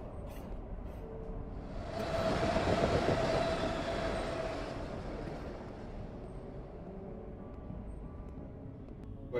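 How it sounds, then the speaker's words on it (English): A passing train rumbles by, swelling to a loud roar with a thin metallic wheel squeal at its peak, then slowly fading into a distant low rumble. "Train"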